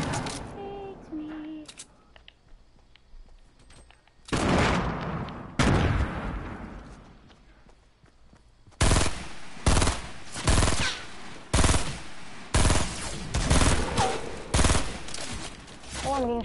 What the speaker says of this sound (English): I'm being shot from the side.